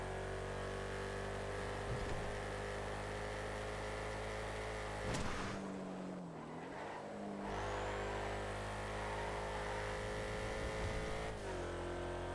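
Race car engine in a racing video game, droning loudly at steady high revs with sustained harmonic whine, a brief drop and dip around a gear change or braking, then climbing back to full throttle.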